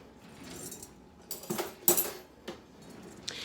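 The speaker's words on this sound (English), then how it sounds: "So let's get a fork." Light metallic clinks of cutlery as a fork is picked out of the silverware in a home kitchen, a few faint separate chinks with quiet gaps between them.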